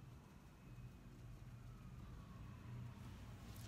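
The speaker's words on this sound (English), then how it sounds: "So you're gonna hear a lot of traffic that you're not used to hearing." Road traffic passes outside a house, a faint, continuous low rumble of car engines with a slight swell partway through and no voices.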